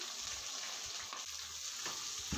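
Green chillies and onions fry in hot oil in a pan, a continuous close sizzle with faint stirring, loud and with no voices.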